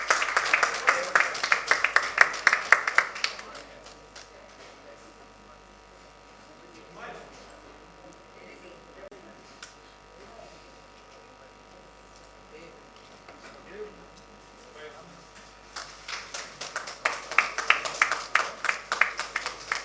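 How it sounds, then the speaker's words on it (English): An audience at the 68th Filmfare Awards press conference in Mumbai bursts into loud applause, which fades into a stretch of quiet talking, then clapping swells again at the end. "A huge round of applause for Mr."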